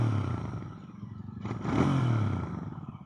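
Royal Enfield motorcycle engine, either an INT650 or a Hunter 350, running nearby with a steady low thrum that swells briefly midway with a rev and some mechanical clatter.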